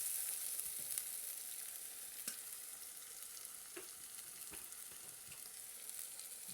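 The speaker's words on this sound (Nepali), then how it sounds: "र अब यो मसलालाई एकछिन पाक्न दिने।" A masala spice paste with chilli powder fries in a pan, giving a soft, continuous high sizzle with faint scattered pops, quiet and steady with no voices.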